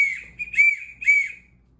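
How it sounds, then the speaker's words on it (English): Two sharp, shrill blasts from a metal whistle, one right after the other, loud and close with no other sound around them. "so that's a whistle"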